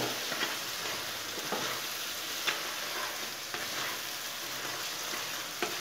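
Green chili pickle sizzling in a pan after sugar is added, a steady, dense frying hiss with occasional crackles and stirring scrapes, close and continuous with no talk.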